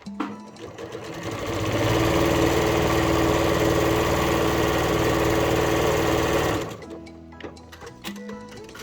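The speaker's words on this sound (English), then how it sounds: "or you can go ahead and sew a straight stitch" A sewing machine runs a straight stitch across a fabric pouch, speeding up into a loud, steady, fast mechanical whir for several seconds, then stopping abruptly, followed by quieter clicks and handling noises.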